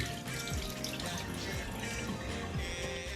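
Tap water runs steadily over vegetables being washed in a kitchen sink, a continuous close splashing wash with a few soft knocks underneath.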